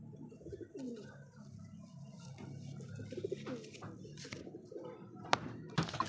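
A pigeon kept for sale coos in low, repeated rolling calls at close range, with a few faint thumps and chirps toward the end.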